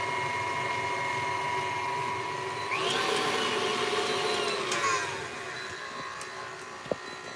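A stand mixer on low to medium speed whips egg whites for Italian meringue buttercream, giving a steady, fairly loud whirring drone that rises slightly and brightens midway, then eases back down.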